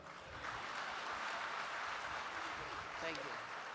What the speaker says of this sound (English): So round applause for that